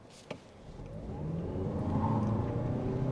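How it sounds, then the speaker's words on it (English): A 2025 Lexus UX300h hybrid accelerates hard with traction control off, its engine and tire noise swelling into a steady, rising whir with a brief thump at the start. "Yeah, we got some wheel spin in here."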